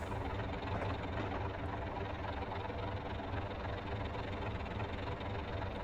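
Class 37 diesel locomotives working under throttle on the Settle to Carlisle line in a train simulator game give a steady, loud, low engine drone with a continuous rumbling throb throughout.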